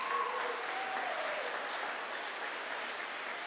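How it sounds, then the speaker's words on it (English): Audience applause for students at the 2016 GRPS XQ Prize event in Grand Rapids: a dense, steady roar of many hands clapping that holds at an even level for the whole stretch, with no voices over it. "Give yourselves a big round of applause,"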